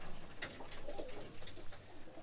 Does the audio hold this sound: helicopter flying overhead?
no